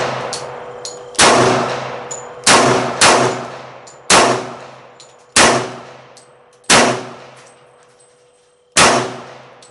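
An American Tactical FXH 45 1911 pistol fires eight loud, close shots at a slow, irregular pace, each a sharp crack with a long decaying ring.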